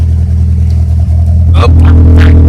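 A car engine with a loud exhaust rumbles close and heavy in a deep, steady drone, and a brief rise in pitch comes partway through as someone talks over it.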